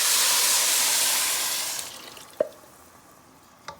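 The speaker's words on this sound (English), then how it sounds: "gonna add some coconut milk with water." Coconut milk and water pour into a cooking pot, a strong, close rushing splash that gradually fades out, followed by a couple of sharp clinks and small drips.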